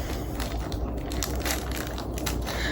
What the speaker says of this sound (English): Let's unwrap this one.